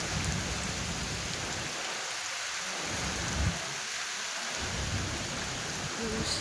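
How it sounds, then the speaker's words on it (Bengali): A Kalbaishakhi storm pours heavy rain in a constant dense hiss, with low thunder rumbles surging in and fading beneath it. "প্রচুর ঝড় হচ্ছে প্রচুর"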